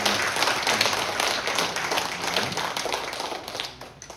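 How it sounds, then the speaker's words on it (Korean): Members of a church congregation at a Sunday service clap together in thanks, a steady broadband patter of many hands that holds evenly before tapering off at the end. "우리 오늘 이렇게 올해 들어 우리 처음 본 분들 향해서 우리 감사의 박수"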